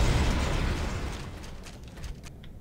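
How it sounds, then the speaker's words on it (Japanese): A large explosion in the video game Vanquish booms loudly at first, then rumbles and crackles away over a couple of seconds, with small pops and mechanical debris sounds in the tail. "すげえ爆発した。"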